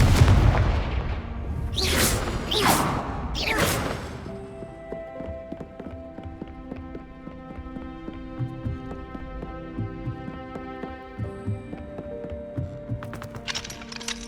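A Confringo fire-blast spell cast in Hogwarts Legacy, heard as a few loud booming bursts in quick succession at the start, then fading into a sustained tonal game score with a faint rising shimmer near the end.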